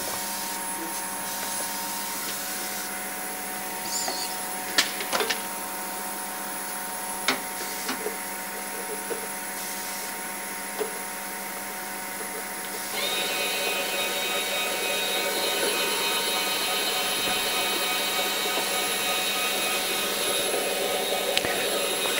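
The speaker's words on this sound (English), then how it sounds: "now I just need to start the machine, the start button" An MEP120 disc sleever machine packs CDs into paper sleeves with a constant mechanical whir and hum, broken by occasional clicks and clacks, the drone growing a little louder partway through.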